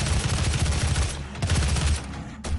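Heavy weapon blasts of the Gauss Cannon in the video game DOOM 2016, loud booming bursts that break off and return, with a sharp final burst near the end.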